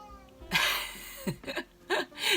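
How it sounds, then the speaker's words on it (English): A pet cat meows indoors in several short, close vocal bursts spaced a fraction of a second apart, with quiet room tone between them. "My kitty cat's talking."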